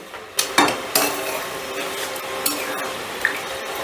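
Chicken curry with spices and water being stirred in a pot, a spoon knocking and scraping against the metal in several distinct clinks over a soft wet simmer, close and alone.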